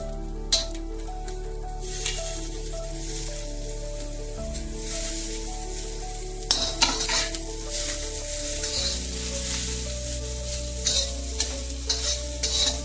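Roasted green chillies, garlic, coriander, mint and salt stirred together in a hot pan, giving a loud, steady sizzle under repeated close scraping and stirring strokes, with no voices.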